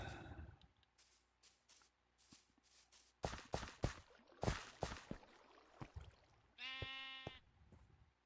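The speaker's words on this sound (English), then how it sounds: "There's a sheep." Sheep in the Minecraft video game bleat several times in short, separate calls, some close and loud and others fainter. Soft footsteps fall in between, and one longer, more tonal bleat comes near the end.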